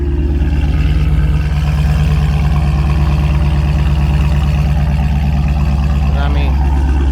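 A car engine idles steadily and close by after an oil catch can install, with a constant low rumble and faint ticking from the injectors, unchanged throughout.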